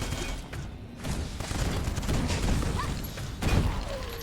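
A rocket launcher fires and explodes in a video game, a dense, continuous barrage of booms and crackling blasts with a heavier hit near the end, no speech.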